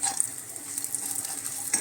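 Cashews and raisins frying in a pan, a gentle continuous sizzle with a few light metal clinks of a utensil against the pan, quiet and close with no voices.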